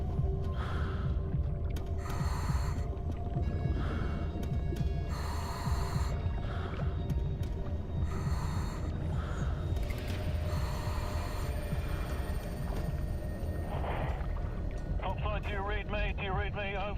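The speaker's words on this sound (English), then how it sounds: "Probably here I'm panting a bit." Scuba diver panting heavily underwater in a strong swell, with rough, repeated breaths and bubbling, churning water filling the whole span and a voice speaking over it.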